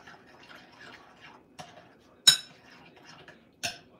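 A spoon stirs food in a cooking pot just after salt goes in: faint soft scraping and light clinks, punctuated by two sharp, bright metal knocks against the pot's rim, fairly close in a quiet kitchen.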